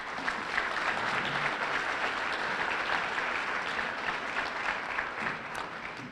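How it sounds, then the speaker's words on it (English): Audience at a school salute-to-service event applauding steadily, a dense sustained clapping from a crowd that carries evenly for several seconds before easing slightly at the end. "Can we just clap for that?"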